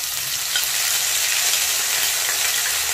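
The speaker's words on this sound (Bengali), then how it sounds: "গ্যাসটা একদম ভালো করে কমিয়ে ফোড়নটাকে একটু ভাজবো" Whole spices tempering in oil in a pan over low gas, a steady, close, even sizzle and crackle that holds throughout with no talking.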